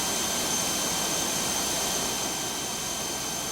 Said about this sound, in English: Let me turn the engine sound down a little.